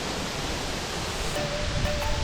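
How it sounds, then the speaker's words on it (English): A waterfall at Samosir Island pours into a pool at its foot amid lush green trees, giving a steady, close, broadband roar that never lets up. "we are arriving at the foot of the waterfall surrounded by lush green trees."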